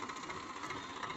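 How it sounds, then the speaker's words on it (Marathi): A farm tractor engine runs in a steady low rumble at moderate distance in a village wheat threshing yard, brief and continuous with no talking. "चला भाऊ आता आलाय ट्रॅक्टर"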